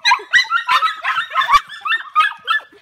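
Several puppies nearly eight weeks old yip and bark in quick, overlapping high-pitched bursts, close and loud, a busy litter chorus with small whimpers mixed in and no talking.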